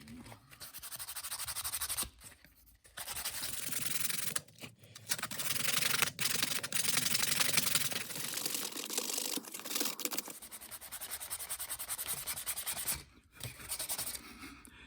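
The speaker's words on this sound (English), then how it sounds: "Back to sanding." Close, rhythmic scratchy rubbing of sanding on cedar wood for a fishing lure, in strokes with short pauses between bursts.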